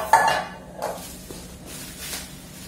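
Metal pans from a Tramontina Paris cookware set clink and clatter against each other in a few quick knocks, close by, with a lighter rattle trailing after.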